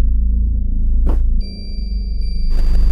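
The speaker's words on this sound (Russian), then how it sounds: "Подбежать к колоколу." A bell in the Momodora: Reverie Under the Moonlight video game gives a short, bright ding that rings out as a steady, sustained tone over a low background drone, with no talk.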